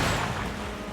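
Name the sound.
torpedo being fired in SteamWorld Heist II video game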